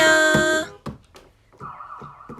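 A toy police car's electronic siren with a thin, toy-like tone, following a short buzzy blare; faint and fairly close, with no talking.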